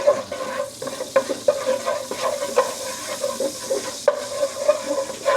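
Garlic powder is stirred into a sizzling pan of melted butter in which bone-in pork chops were seared, giving a soft frying hiss broken by repeated scrapes and taps of the utensil, without any talking.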